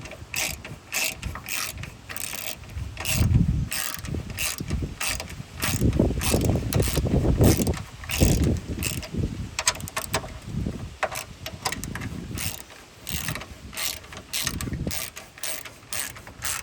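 A ratchet clicks in quick, repeated bursts while threading a bolt on the engine support mount of a 2012–2015 Chevy Impala 3.6L, close and loud, with no talk.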